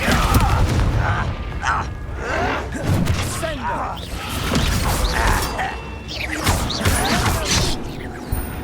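In the video game Hogwarts Legacy, a Descendo spell lands with heavy booming slams and crashing impacts amid a chaotic combat mix with whooshes and gasps, loud and repeated over several seconds.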